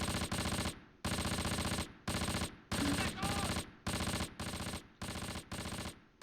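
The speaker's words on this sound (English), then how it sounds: "Is Haley being shot at? Yep, they are" Machine-gun fire rattles in the World War II tactics game Close Combat: Panthers in the Fog, loud repeated bursts about a second long separated by brief gaps, with faint voices underneath.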